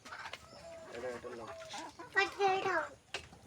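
Free-range desi hens and a rooster on a village poultry farm cluck and squawk in short bursts, with one louder rising squawk, alongside quiet speech in the background.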